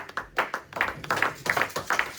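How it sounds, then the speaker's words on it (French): A church congregation claps in time: sharp, steady handclaps in a lively rhythm, close and moderately loud, with no speech over them. "Wir applaudieren für den Herrn."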